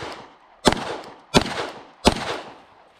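Glock 48 pistol with a red-dot sight fired at a 10-yard range drill, three sharp loud shots at even intervals, close and alone.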